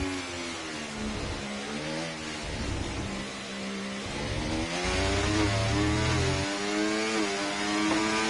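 Sim racing F1 car engine from a video game, lapping Spa for the Belgian GP, revs rising and falling steadily through gear changes, loud and continuous with no voices.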